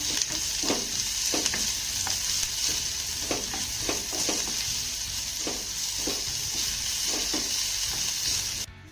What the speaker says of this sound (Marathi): एक बारीक चिरलेला कांदा घालायचा आहे त्यानंतर हा कांदा आपल्याला छान असा मौसूद होईपर्यंत परतून घ्यायचा आहे